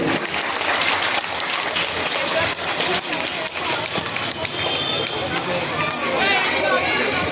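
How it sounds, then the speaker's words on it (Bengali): Loud, sustained applause from a large crowd at a prize giving on a football ground, thick continuous clapping with voices and babble underneath. "সবাই একটু জোরে হাততালি দেবেন"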